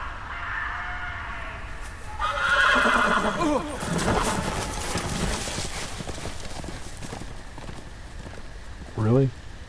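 Horses neigh and whinny with clip-clopping hooves in a Game of Thrones video game, the calls standing out among background effects, with a short sharp whinny near the end.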